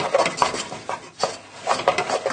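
A spoon stirs butter into mashed potato in a pan, making repeated scraping and soft knocking strokes against the metal in an uneven rhythm, close and fairly quiet, with no talking.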